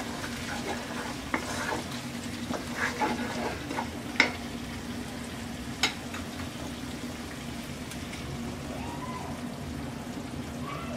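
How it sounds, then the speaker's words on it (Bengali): A mixture of spice powder and yogurt hits frying tomato and is stirred, giving a steady sizzle and bubbling with a few soft clicks of the spoon against the pan. "এবার আমরা গুঁড়া মশলা আর টক দইয়ের মিশ্রণটা দিয়ে দিব।"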